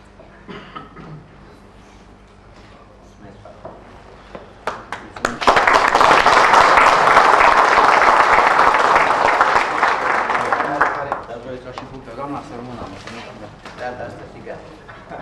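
Applause breaks out at a local council meeting in Tulcea, Romania. A few scattered claps lead into a loud burst of crowd clapping lasting several seconds, which then fades back to murmuring and sporadic claps.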